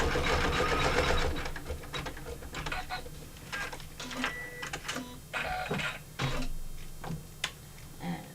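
An embroidery machine stitching a Christmas design, a close, busy mechanical patter of rapid needle ticks and whirring that rises and falls in short bursts, with no talk.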